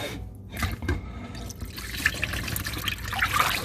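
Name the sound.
water poured off rinsed rice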